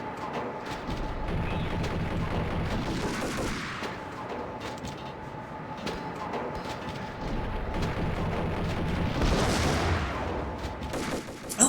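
Gunfire in the video game Max Payne, in a secret underground base. Dense, sustained volleys of shots run through the whole stretch with no let-up, growing heavier and louder toward the end.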